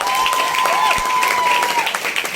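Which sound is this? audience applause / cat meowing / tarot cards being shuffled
audience applause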